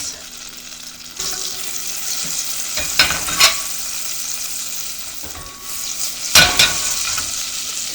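Butter melts in a pan over medium-low heat with a close, steady sizzle, punctuated by a few sharp scrapes and clatters of a utensil moving through it.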